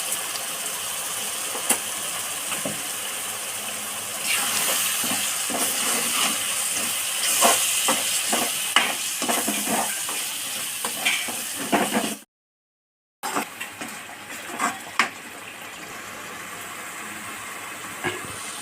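Tomatoes with spices, coconut powder, chilli and salt cook in oil in a pan, giving a steady close sizzle and hiss broken by scraping stirring clicks, with a brief total silence partway through.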